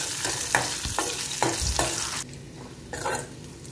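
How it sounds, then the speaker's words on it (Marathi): Crushed garlic frying in a pan of oil for a horsegram curry, with a steady close sizzle broken by several short scraping stirs of a spoon and a quieter patch near the end. "ठेचलेला लसूण घालायचं आहे।"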